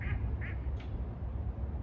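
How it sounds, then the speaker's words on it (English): Ducks quack a couple of times outdoors during an autumn walk through a New England cemetery, short nasal calls at moderate distance over a steady low rumble of wind and ambient noise. "Oh, there's some ducks flying across."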